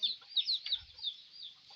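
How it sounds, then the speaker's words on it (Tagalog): Chickens cluck softly in quick, chirpy bursts, with a brief low thump in the middle; the birds sound fairly close and moderately quiet. "Ito, marami sa mga manok ngayon guys."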